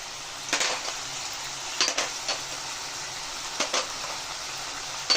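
Spices such as turmeric and chilli powder with salt and sugar cooked down in oil in a pan for a Bengali tomato katla fish dish, giving a soft steady sizzle broken by a few scraping stirs and clinks of a spoon against the pan.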